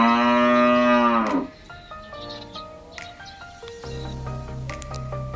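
A cow moos once, loud and close on a family farm that also keeps goats and ducks, followed by quieter dripping and squishing farmyard sounds.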